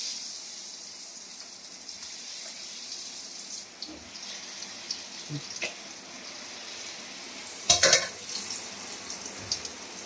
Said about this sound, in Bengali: খটখট করে আওয়াজ হয়েছে, একদম ভাজাগুলো খুব সুন্দর করে হয়ে যাচ্ছে